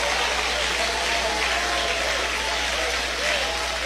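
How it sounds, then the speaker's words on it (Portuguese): Church congregation clapping in sustained, dense applause at an evening service, steady and fairly loud throughout with no clear voices. "Batam palmas e glorifiquem ao Senhor"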